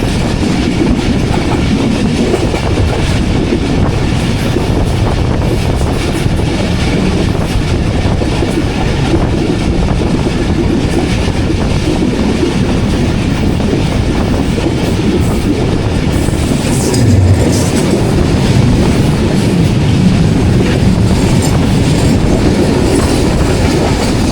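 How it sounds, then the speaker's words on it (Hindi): A train on the railway line near Karachi, its wheels clattering loudly and continuously with a rhythmic clickety-clack, close and unbroken throughout, with a brief squeal near the end. "6:30 बजे की ट्रेन आ रही है जी सामने से।"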